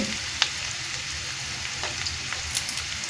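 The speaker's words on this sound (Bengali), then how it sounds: "তেজপাতা, এলাচ, দারচিনি দিয়ে দিলাম, এটাকে আমি ভেজে নিব।" Onion fries with bay leaf, cardamom and cinnamon for a beef korma, giving a steady, dense sizzle close by, with a few faint stirring clicks and no talk.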